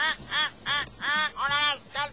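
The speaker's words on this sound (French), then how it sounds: "À la grande stupéfaction d'un canard furieux." An angry duck in an animated children's story quacks loudly in five or six sharp, close bursts, evenly spaced in a quick, agitated rhythm.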